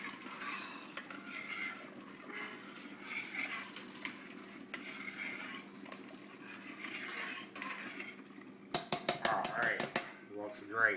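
Soft swishing of a spoon stirring salted water in a cooking pot for a Portuguese-style pot roast, low and muffled, ending in a burst of sharp clanks of utensil against the pot.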